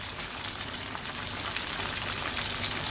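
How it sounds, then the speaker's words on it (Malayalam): Homemade chicken nuggets fry in oil in a pan, giving a steady crackling sizzle that stays even throughout with no voices. "നമുക്ക് മറിച്ചിട്ട് വറുക്കാം."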